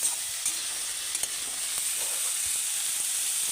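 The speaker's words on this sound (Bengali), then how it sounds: "এবার এটাকে ভালো করে কষিয়ে নিই কষিয়ে নেওয়ার পরে জল দেবো" Boiled cauliflower stems sautéing in a pan, a steady soft sizzle with faint stirring scrapes, continuous and close, no voices.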